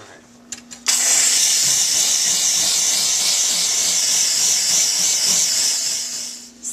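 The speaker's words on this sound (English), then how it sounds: "Take a look at these rust stains on the stainless steel sink." A Reliable E5 steam cleaner hisses continuously as it blasts steam onto rust stains on a stainless steel kitchen sink, a loud steady jet after a few short spurts at the start.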